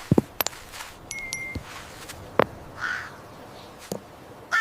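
Crows calling outdoors: several short, sharp caws scattered across a few seconds, moderately near, with faint rustling and light footsteps between calls.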